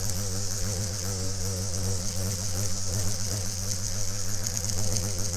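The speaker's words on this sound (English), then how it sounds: "it looks like the steel brush is working fine" A steel wire brush spun at low RPM, lightly scrubbing the body of a radial drill press in a machine shop, a steady motor whir under the continuous close grinding rasp of the bristles.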